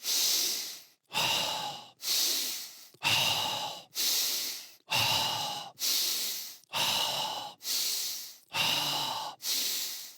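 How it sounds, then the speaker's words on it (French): Deep, forceful breaths in a Tibetan yoga breathing exercise, about ten strong rushing inhalations in a steady rhythm of roughly one per second, each separated by a brief pause, close and alone. "On inspire."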